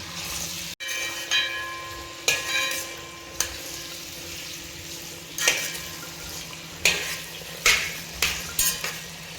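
Hog plums being sautéed for pickle in a pan, with a steady sizzle throughout and several louder bursts of stirring and scraping that come and go, close up and with no talking.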